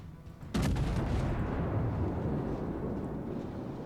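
Heavy naval gunfire in a World of Warships battle: a sudden loud boom at about half a second, followed by a long, rumbling roar that slowly fades across the rest of the moment.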